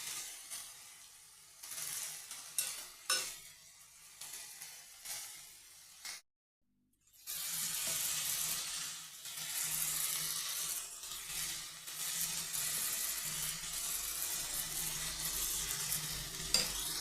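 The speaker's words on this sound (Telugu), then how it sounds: "ఉప్పు, పసుపు, టమాటా వేసి కొంచెం కలిపిన తర్వాత" Tomato curry with salt and turmeric stirred in a pan, steady sizzling and frying with scraping stir strokes, briefly cut to silence midway before the sizzle resumes close and moderately loud.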